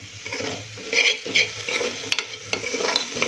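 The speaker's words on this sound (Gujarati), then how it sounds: "મગની દાળ છે એને આપણે સારી રીતે ધોઈ લીધી છે એને પણ આપણે આમાં એડ કરીશું" Ghee-coated bajra millet and moong dal khichdi being stirred in a pan, with soft scraping strokes and faint sizzling that rise in a few louder bursts over about three seconds, no talking.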